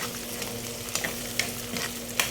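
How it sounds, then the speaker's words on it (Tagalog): Sliced boiled pork sautéing in oil for a shrimp-paste dish, with a close, steady sizzle broken by sharp clicks of a utensil against the pan, and no talking. "Sangkutahan lang po natin para madagdagan pa ng mantika ang ating"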